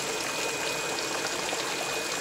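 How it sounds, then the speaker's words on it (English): Water drips and trickles from Dutch buckets in an aquaponics setup into a sump tank holding fish, making a continuous close splashing and pouring wash with no voices. "I'm getting a little bit of aeration from the water falling into the sump tank"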